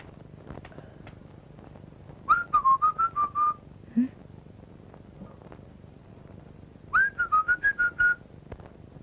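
Two bursts of a person whistling a signal code, each a rising note followed by a quick run of short repeated chirps, clear and fairly close with a faint low background hum between them.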